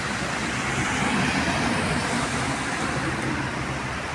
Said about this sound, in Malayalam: വണ്ടികളങ്ങനെ ചിതറിയതാ വരുന്നുണ്ട്.